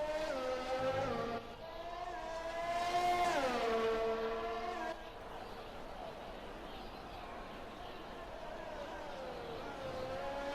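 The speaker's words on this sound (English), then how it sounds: "Bottas is absolutely flying in his new car." A Formula 1 car in the F1 2020 video game races past with a high whining engine that rises and falls through gear changes, loud and close at first, then a fainter steady drone.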